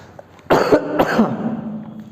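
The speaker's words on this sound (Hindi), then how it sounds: "खांसी गई नहीं है" Two harsh coughs in quick succession, close to the microphone, followed by a brief rasping throat sound.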